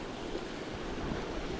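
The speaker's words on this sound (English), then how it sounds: "the sheer amount of bubbling that's going on every time the water goes out and then comes in immediately and breaks over these corals" Waves surge in and break over corals on a wild reef with heavy bubbling, a continuous close roar of surf and wash that fills the short stretch, with no voices.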